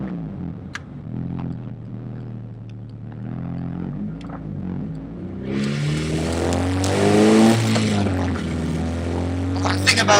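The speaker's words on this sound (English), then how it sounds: "Cruising in fourth gear right now, probably doing about 35 or so." A Honda CRX with a K20A2 engine cruises in fourth gear at a low, steady engine hum, and the drone swells into a louder, fuller tone partway through as the car carries on under light throttle.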